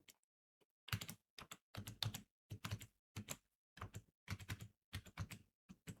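Someone entering an email and password on a computer keyboard: quick bursts of crisp key clicks in short rhythmic clusters separated by brief pauses, close and clear with no voices.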